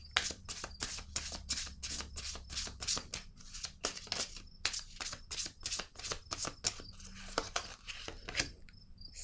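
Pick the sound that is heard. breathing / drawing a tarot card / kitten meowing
drawing a tarot card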